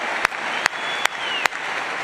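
Dense, steady applause from a conference audience of about 18,700 people in a large hall, with a few sharp, louder claps standing out at regular intervals.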